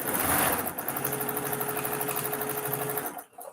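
A Brother Novell 1500 sewing machine runs close by in one steady, even whirring burst with a rapid stitching buzz, then slows and stops near the end.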